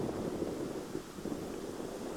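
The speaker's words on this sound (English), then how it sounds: "you can see it really started howling, gusting right before he threw" Strong wind gusting and roaring across an open outdoor disc golf course during a tournament's final round, a steady broadband rush that swells in gusts, loud and continuous with no one talking.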